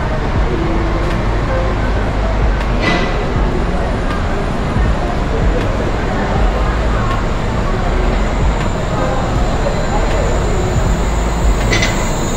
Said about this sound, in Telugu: Let's see how the శ్వేబబాన్ turns around. ఆ శ్వేబబాన్ తిరిగి ఎట్లా వస్తుందో చూపిస్తాను.